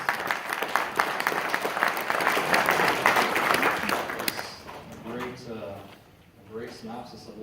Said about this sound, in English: Everybody give Aaron a round of applause.